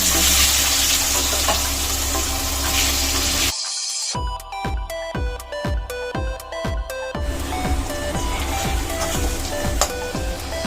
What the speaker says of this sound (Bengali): এরপরে বিরিয়ানির পেঁয়াজটা ভেজে নেবো।